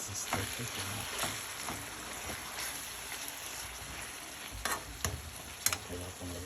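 Homemade taco filling sizzling and frying in a pan, a steady crackling hiss with scraping stirring clicks now and then, heard close and alone.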